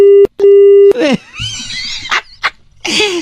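After a call is hung up, a phone sounds three steady beeping tones in a row, loud and close, followed by a voice making sudden strained, exclaiming noises.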